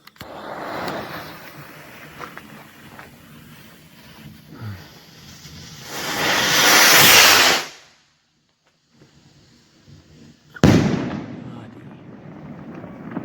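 A firework shell with a crown-to-white-strobe effect: a sharp loud burst followed by a long crackling sizzle that rises and fades, then a second sudden pop, with faint talk in the background.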